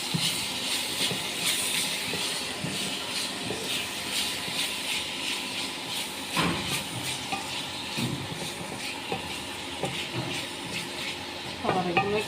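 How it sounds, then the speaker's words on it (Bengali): Chopped chili and tomato being stirred into a sizzling pan of vegetables and prawns, a steady scraping and frying hiss with occasional louder clinks, close and continuous with no talk. "টমেটো কুচি, সব কিছু আমি মিক্স করে নিচ্ছি।"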